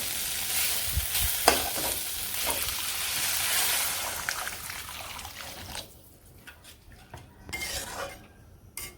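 Spices frying in oil in a pan while cooking a potato and egg curry, with a steady close sizzle and the scrape and clink of stirring that quietens after about six seconds.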